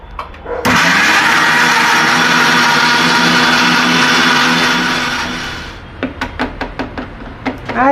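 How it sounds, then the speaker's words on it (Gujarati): A mixer grinder roars loudly for about five seconds, blending tomatoes and onions into gravy, then winds down, followed by a series of sharp knocks and taps. "આપણે આ મિક્સર જારમાં ટમેટાં અને કાંદાની ગ્રેવી બનાવી લઈશું"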